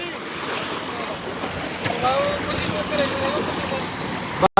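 Floodwater rushes through a village canal at Dera Baba Nanak: a steady, broadband wash of churning water with wind buffeting the microphone. It continues evenly for about four seconds before cutting off abruptly.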